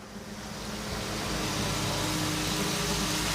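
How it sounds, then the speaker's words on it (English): Garden irrigation nozzles in a seedling bed spray water in a steady broadband hiss that swells over the first second and then holds loud and continuous, with no talk. "I turn the little black nozzle that's on them, turn them up, and the water starts"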